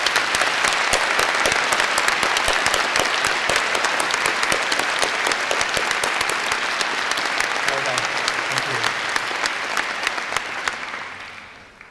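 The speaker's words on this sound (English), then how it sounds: "Let's applaud them as well." A large graduation ceremony audience gives sustained, dense applause for the standing administrative and academic staff, steady and loud before fading out at the end.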